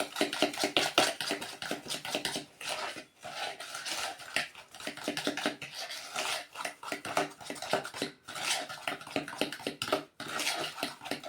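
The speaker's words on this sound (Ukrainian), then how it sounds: "Розмішуємо хорошенько, так розтираємо." Sugar and salt being stirred and rubbed in a bowl for baking, a steady run of close scraping and clinking strokes against the bowl with brief pauses, no talk.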